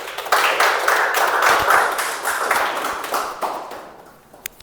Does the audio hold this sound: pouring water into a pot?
no